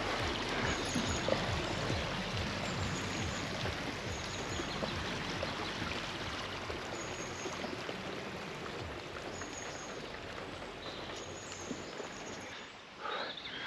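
A river flowing along a hiking trail at Pendle Hill, a steady broadband rush of water running continuously at close range with no voices over it.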